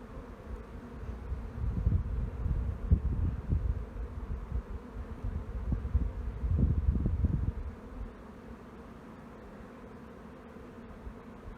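Honey bees buzz around an open hive on a small bee farm, a steady low drone that swells louder and closer in two bursts before easing back to a quieter hum, with no voices.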